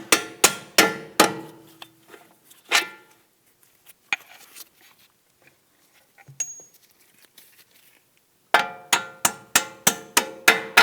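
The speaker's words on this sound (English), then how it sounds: "Let's go ahead and start by tapping out this upper bolt." A hammer taps out an upper control arm bolt on a 2001-2009 Volvo S60 rear suspension. Several sharp, ringing metallic strikes land in a quick series, then a sparse gap with a few isolated knocks, then another rapid run of blows, all close.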